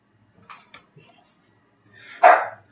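A single sharp dog bark rings out near the end after a few soft, faint sounds, close by and loud against an otherwise quiet room.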